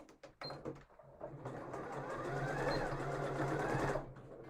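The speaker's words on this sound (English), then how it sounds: "let's sew this in" A sewing machine stitches a seam at half-centimetre allowance, starting with a few short bursts before running into a steady, quick mechanical whir that rises in speed and then stops, heard close and fairly quiet.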